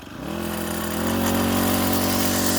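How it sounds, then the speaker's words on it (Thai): A rice harvester engine starts up and revs to a steady, loud drone with a strong low hum, continuing without any talk. "เร่งเครื่องนะครับ"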